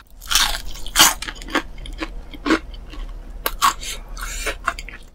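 Crunchy bites and chewing of spicy chili-mayo fried chicken in Korean Nene Chicken style, several sharp crunches spaced through the clip at close range, with no talk.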